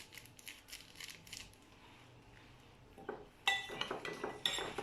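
A utensil clinks and scrapes in a bowl of dry crepe ingredients with nutmeg. Soft scratchy stirring comes first, then louder, brighter metallic taps and clinks toward the end, close up and with no talking.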